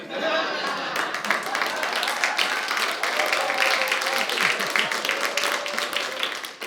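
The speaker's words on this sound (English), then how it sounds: "I love that my husband's clapping." Comedy show audience applauding a stand-up set, the husband's clapping among steady dense hand claps and crowd murmur lasting several seconds at moderate loudness, with voices heard under the clapping.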